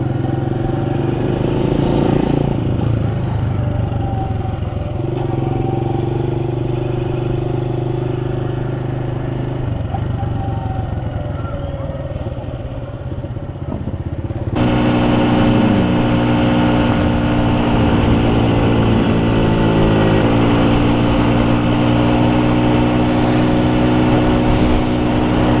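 A small Honda C100 Dream motorcycle rides along a rural road, its little single-cylinder engine buzzing steadily and close, with gear shifts changing the pitch and the note rising as it accelerates.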